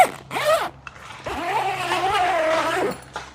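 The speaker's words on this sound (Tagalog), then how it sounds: "safety zipper." A safety zipper on an XTM quick-release awning cover is pulled shut in two close, sharp zipping strokes, a short one followed by a longer steady one.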